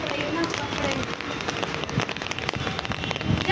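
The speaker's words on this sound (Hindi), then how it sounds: "ये देखो फ्रेंड्स तूफान कितना तगड़ा है और बहुत जबरदस्त बारिश है आज" Heavy rain, with hail, pours during a strong storm in Delhi. A dense, steady patter and rush lasts the whole clip, and people talk under it.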